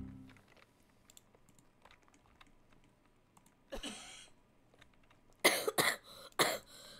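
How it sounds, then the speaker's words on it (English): Coughs from a person playing Roblox Toilet Tower Defense, a few sharp bursts heard close, the first one alone and the last ones in a quick cluster over quiet room noise. "That's my cough, guys."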